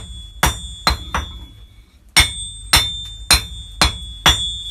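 A hammer strikes metal in a blacksmith's forge, about nine sharp ringing blows in an uneven rhythm with a short pause midway, each leaving a bright metallic ring, with no talking.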